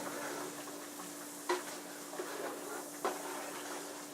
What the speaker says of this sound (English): So just keep sauteing this up, just like so.